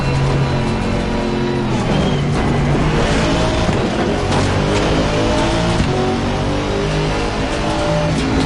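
GT4 race cars, including a McLaren, lapping the Bathurst circuit in the racing game Assetto Corsa Competizione, with loud continuous engine roar and shifting revs along with tire noise throughout, no talking.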